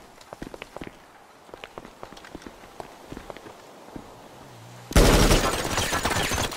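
A rapid burst of gunfire in the game GTA Online erupts loud and dense after several seconds of scattered light footstep-like taps, continuing steadily to the end.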